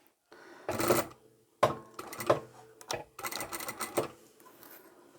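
A sewing machine stitches a straight seam through layered fabric for a key lanyard, running in several short bursts of rattling whir with brief stops between, close and alone.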